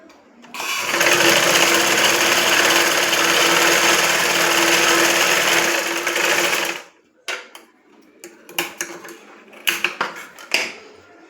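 A sewing machine running a continuous fast stitch on blouse fabric for several seconds, loud and close, then stopping into clicks, fabric handling and small metallic knocks.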